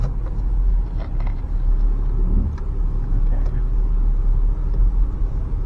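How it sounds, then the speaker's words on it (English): A used car on a test drive: a steady low engine and road rumble heard from inside the cabin, with a person talking over it. "Okay, we'll start the test drive now."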